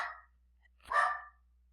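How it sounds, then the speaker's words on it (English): A dog barks once at a distance, a single short bark standing alone after a brief burst of indoor noise, with no talking over it. "my dog is barking"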